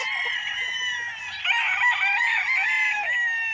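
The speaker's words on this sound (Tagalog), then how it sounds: "Sa ingay ng mga manok." Several chickens cluck and a rooster crows loudly nearby on a farm lot in Liliw, Laguna, overlapping calls forming a steady noisy chorus without pause.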